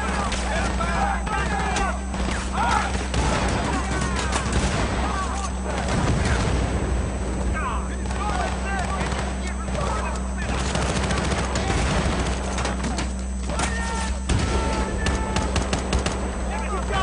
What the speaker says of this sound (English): Was that a shotgun?